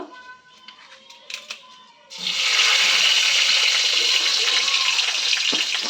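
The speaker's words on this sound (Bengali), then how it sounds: "আমি এখন এর মধ্যে কালো জিরা, তেজপাতা ফোড়ন দেব।" After a few quiet clicks, nigella seeds and bay leaves hit hot oil in a karahi and burst into a sudden loud, sustained hiss that keeps crackling steadily to the end.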